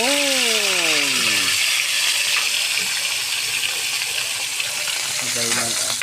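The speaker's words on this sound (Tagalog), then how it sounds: "Saka iprito na yung bangos." Milkfish (bangus) fries in hot oil with a loud, constant sizzle throughout, broken by a brief falling whine at the start and a short tonal sound near the end.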